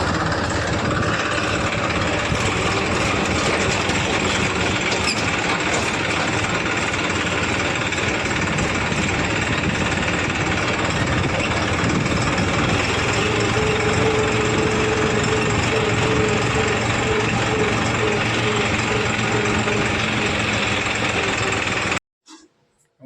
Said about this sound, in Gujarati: હવે આપણે ટ્રેક્ટર લઈને જવાનું છે ઘરે